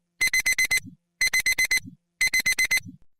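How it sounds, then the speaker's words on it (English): An alarm clock beeps loudly in three evenly spaced bursts of rapid repeated electronic beeps, heard alone and close. "The alarm clock blasted me awake."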